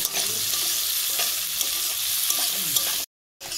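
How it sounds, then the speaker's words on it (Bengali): Chopped onion hits hot oil with spiced tempering in a pan for a potol chingri curry, setting off a loud, steady, dense sizzle that holds without a break before cutting out briefly near the end. "এবার আমি দিয়ে দেবো পেঁয়াজ"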